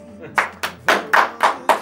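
Several bursts of hand clapping from a small group at a birthday celebration, about six quick, uneven claps close by, with no talking over them.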